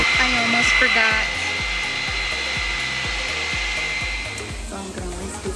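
A hooded hair dryer runs with a steady, loud whooshing drone throughout, with faint intermittent clicking or tapping beneath it.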